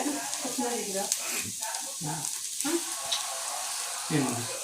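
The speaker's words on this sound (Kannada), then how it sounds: "ಮೊದಲಿಗೆ ಬೀನ್ಸ್ ಹಾಕೊಂಡ್ರು ಅದು ಫ್ರೈ ಮಾಡ್ಕೊಳ್ತಾ ಇದ್ದಾರೆ" Beans, capsicum, green chillies and spring onion stir-fry in a pan, making a steady hiss of frying under intermittent talking close by.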